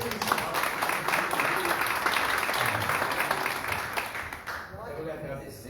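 A church congregation applauds together, a dense, sustained wash of clapping that fades out near the end, with a voice speaking over it.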